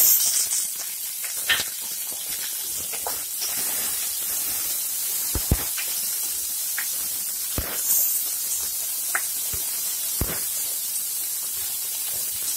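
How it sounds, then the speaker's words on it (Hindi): Chopped onions dropped into a hot pan over a medium flame sizzle with a steady, bright hiss, while occasional spoon knocks and clicks land on top of the frying noise. "अब हम डालेंगे प्याज"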